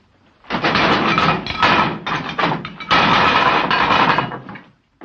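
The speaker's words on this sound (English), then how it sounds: "Start banging some pots around so we can talk." Pots and pans are banged around in a kitchen with loud, dense metallic clattering and thumping in rapid, irregular bursts that continue for several seconds before stopping.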